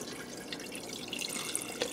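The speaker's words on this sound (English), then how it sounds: "I'm also going to add in here 4 cups of chicken broth" Chicken broth pours from a box with a hole cut in its top into a pressure cooker, giving a steady close splashing, trickling stream with small drips and no talking.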